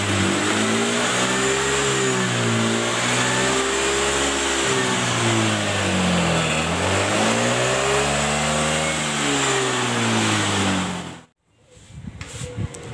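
The carbureted engine of a Vario Techno scooter, which is burning too much fuel, revs up and down repeatedly in a loud, close, rising-and-falling whine for about eleven seconds before cutting off abruptly.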